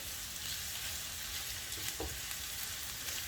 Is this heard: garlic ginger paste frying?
yes